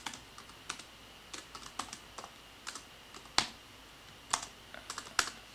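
A computer keyboard is typed on in short irregular bursts of light clicks, with a few sharper key presses, quiet and close with no voice.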